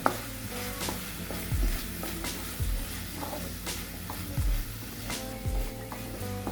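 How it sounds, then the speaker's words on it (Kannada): Turmeric and chili powder stirred into sizzling oil in a frying pan for bhindi masala, with a steady close fry hiss and several scraping spoon strokes against the pan. "ಈಗ ನೋಡ್ರಿ ಎಲ್ಲ ಮಿಕ್ಸ್ ಮಾಡ್ಕೋತೀನಿ"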